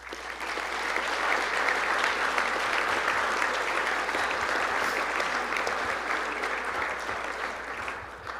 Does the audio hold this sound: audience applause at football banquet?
yes